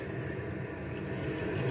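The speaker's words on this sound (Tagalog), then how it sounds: "At saka po natin lagyan ng tubig ulit." Water pours steadily into a pot for fish sinigang, a continuous splashing, gushing flow at moderate volume with no talking.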